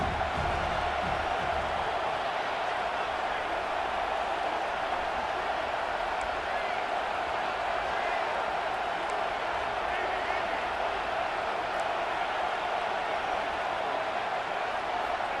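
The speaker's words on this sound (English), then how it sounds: "this crowd is turning it up a notch" Broad, steady roar of a college football stadium crowd at a Virginia Tech versus Notre Dame game, dense and sustained with faint applause, while a commentator talks over it.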